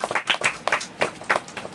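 A church congregation at a family prayer gathering claps hands in praise, a short burst of rhythmic, fairly even claps at a moderate distance.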